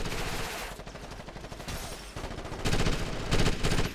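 Gunfire in the video game Ghost Recon Advanced Warfighter crackles in loud, rapid automatic bursts, with sustained heavy firing that grows denser toward the end.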